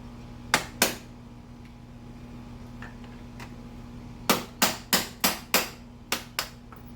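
Metal pin being tapped out of a KTM 500 EXC-F foot peg mount: two sharp knocks, a pause, then a run of six quick close metallic strikes over a steady low hum.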